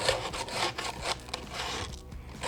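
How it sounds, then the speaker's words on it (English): Hand sanding a wooden surface with 80-grit sandpaper to remove tear-out, a steady rough scraping rub repeating in quick back-and-forth strokes, close and fairly loud with no talking. "So I'm starting with an 80 grit just to take off most of the tear out"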